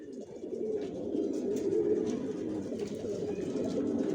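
Racer pigeons in a loft give a steady, continuous chorus of low, overlapping coos that stays close and fairly loud throughout, with no talk over it.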